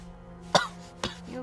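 A man coughs on an airplane, with three sharp, close coughs spaced out over a low steady cabin hum.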